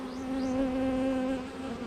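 Steady, close buzzing of honey bees around a hive, a continuous droning hum with a few passing bees rising and falling in pitch, with no voices.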